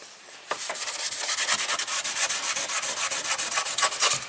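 Sandpaper rubbing steadily across the shiny painted surface of a car engine bay during prep for candy apple red paint, a continuous close scratchy rasp with repeated strokes running after a brief start.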